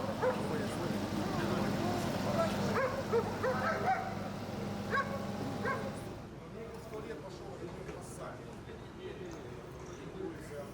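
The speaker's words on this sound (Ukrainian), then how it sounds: "Це пошукові рятувальні собаки, які навчені шукати як людей, живих людей, так і вмерлих." Search and rescue dogs at a bombed apartment block in Dnipro give repeated barks and yips over the first six seconds, then fall quiet. People talk nearby throughout.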